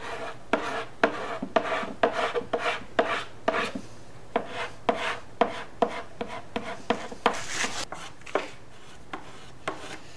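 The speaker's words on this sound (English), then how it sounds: "Use a spreader and push it in there." A spreader pushes scratch putty into a hole on a Honda Sabre cafe motorcycle project part, sounding as a close, regular series of short scraping strokes, about twenty in a row.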